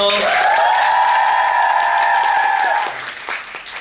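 A theater audience cheers loudly and applauds at the closing-night stage greeting of the musical Oz, a sustained, high-pitched collective shout carrying for nearly three seconds before dropping into softer scattered clapping.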